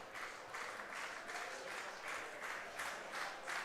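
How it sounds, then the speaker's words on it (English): Baseball fans at Labatt Park in London applaud during a playoff final game, the distant crowd clapping in steady rhythmic bursts, faint and far off. "Fans here at Labatt Park trying to cheer on Arias here"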